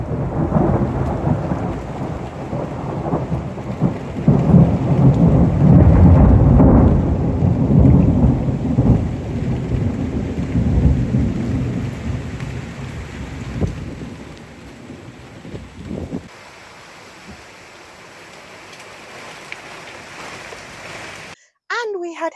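Heavy storm with thunder and torrential rain in a cold mid-June garden, a loud broadband roar of downpour and rumbling that eases after about sixteen seconds into quieter rain, with a faint voice underneath.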